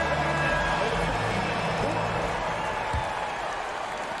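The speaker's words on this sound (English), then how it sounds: "Fans, please give a big round of applause for your Suns youth dance team." A large crowd applauds and cheers in a basketball arena, a steady roar of clapping with an announcer's amplified voice over it.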